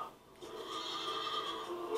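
A horse neighs and whinnies for about two seconds during a Tollywood film fight scene. The sound is faint, comes from a distance and plays on its own with no talking.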